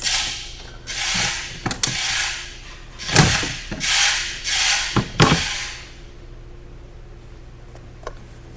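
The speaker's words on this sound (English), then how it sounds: "So I'm just gonna remove this airbox here." Plastic clips and fittings rattle and click as an airbox is pulled from a Genesis GV80 3.5 Turbo engine, with several sharp ratcheting bursts and brief knocks close by, then a quieter stretch.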